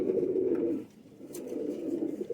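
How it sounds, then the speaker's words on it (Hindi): A Sheikhon wala pigeon, held in the hand, gives low throaty coos close by, one long roll then a softer continuing coo, with no talk over it. "ये शेखों वाले कबूतर हैं, ये जानवर।"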